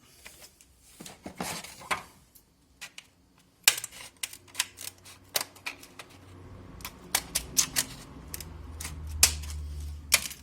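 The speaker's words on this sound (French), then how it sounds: "Il n'y a plus qu'à couper au ciseau." Scissors snip through a thermoformed plexiglass stencil in a string of sharp, irregular clicks and crunches, close and crisp, some rapid bursts and some spaced apart, with a low hum underneath.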